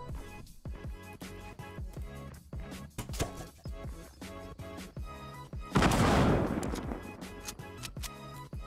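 A gunshot in the Fortnite battle royale game rings out as a sharp broadband blast near the six-second mark, standing out over a busy, rhythmic game-music bed with a dense stream of other hits and game sounds.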